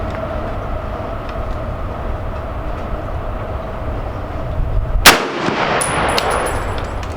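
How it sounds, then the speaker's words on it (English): Steady range noise breaks into one loud, sharp M1 Garand rifle shot, followed by a faint metallic ring from a steel target about 100 yards downrange. No one speaks. "Boy, you can hear it smack this steel down there."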